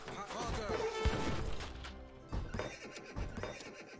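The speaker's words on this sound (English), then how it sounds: "More horsey horses." Horses whinnying loudly in the strategy game Age of Empires III: Definitive Edition during a historical battle scenario, with clattering hooves and clashing thuds under the neighs in a busy, dense mix.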